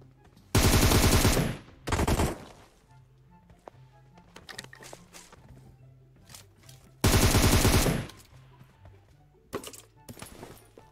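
Groza assault rifle in PUBG Mobile fires two loud full-auto bursts, one near the start and another midway, with quieter scattered shots and game sounds between them.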